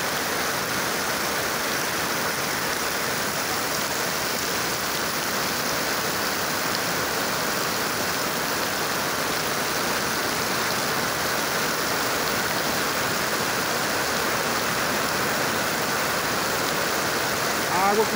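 Heavy rain pours steadily in Milagres, Ceará, a dense, unbroken roar of water hitting surfaces at close range, loud and constant throughout with no talk over it.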